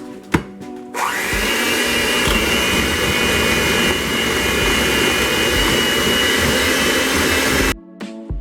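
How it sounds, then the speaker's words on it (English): An electric mixer churns butter and sugar, starting abruptly and holding a loud, steady whirring drone for several seconds before cutting off, close and alone with no talk. "I'm like leaning on them with the mixer to make sure that I get all of that broken down"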